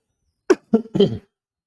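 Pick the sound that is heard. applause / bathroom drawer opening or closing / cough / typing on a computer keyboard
cough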